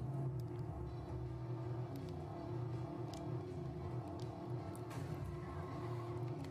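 A Ford Mustang-like car in the video game Watch Dogs rumbles on at a steady, low engine note, faint and continuous, with a few small clicks and knocks over the drone.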